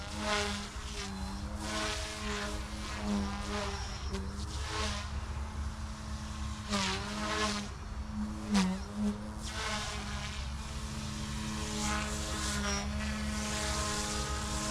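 A small Goosky S1 RC model helicopter whines and buzzes nearby, its high rotor pitch rising and falling as it maneuvers, with no talking.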